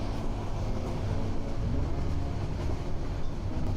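Continuous low rumble and rattle of the Parjatak Express passenger train running from Dhaka to Cox's Bazar, heard from inside a carriage, steady and even throughout.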